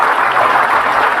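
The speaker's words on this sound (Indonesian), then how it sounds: "kasih tepuk tangan dulu buat mereka" An audience at a motivational business talk bursts into steady, dense applause, loud and close, many hands clapping together without a break and no voices over it.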